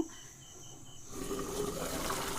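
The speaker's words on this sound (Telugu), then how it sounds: "కొద్దిగా వాటర్ వేసుకున్నాము" Water poured into a pan of sweet potato curry, a steady close gush of liquid that starts partway through and continues to the end.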